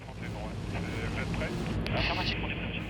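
A firefighting airplane, callsign Pelican 45, takes off down a runway on the Blue Coast, its engines a steady, broad roar that swells slightly as it gathers speed, with voices talking over it.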